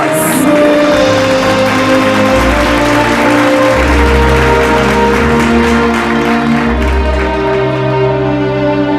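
Primary school assembly audience applauding, a loud wash of clapping mixed with strong tonal music or hum bands, lasting the whole stretch.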